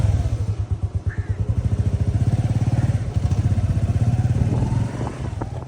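A motorcycle taxi idles close by on a street in Kariakoo, Dar es Salaam, its engine chugging in a steady, loud rhythmic putter throughout.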